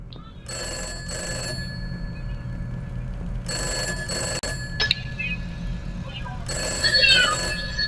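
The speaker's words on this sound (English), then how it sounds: "phone ringing." A telephone rings in the horror video game Those Nights at Fredbear's, three electronic ring bursts with pauses between, loud and close, with a brief sharp sound effect in the middle and speech alongside.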